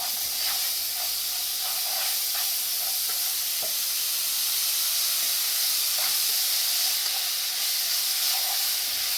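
Rice and vegetables sizzle loudly in a hot pan as they are stirred, giving a steady, close hiss with scattered scraping clinks from the utensil throughout and no voices.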